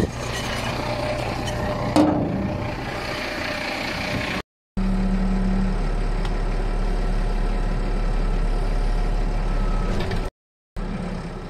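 Farm tractor engine running steadily as its forks and spikes work to pull out a piece of wood, a continuous close diesel drone with brief cutouts and a short whine near the start.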